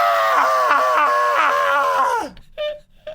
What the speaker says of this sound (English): you can scream now